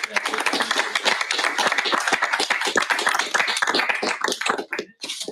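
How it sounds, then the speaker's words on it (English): Audience applause for the panelists at a panel event on global power and decarbonization, dense continuous clapping from a crowd that carries on steadily and thins briefly near the end. "a round of applause for our panelists"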